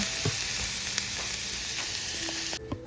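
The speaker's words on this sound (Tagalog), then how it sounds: "Gisa-gisa lang po natin ito ng 5 minutes." Celery sautéing in a pan with carrot, a steady close sizzle broken by a few light utensil clicks and a short scrape near the end.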